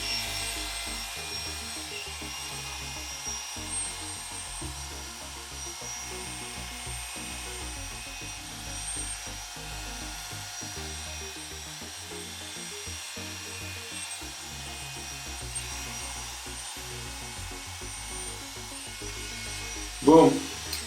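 Hair clippers with no guard trim along a neckline, a faint steady buzz running continuously under quiet movement, ending with a brief louder knock.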